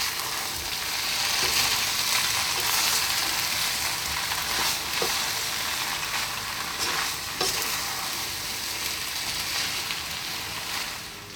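Fish vegetable noodles with freshly added green onions stir-frying in a hot pan, giving a loud, steady, close sizzle with occasional light clacks from tossing, and no talking.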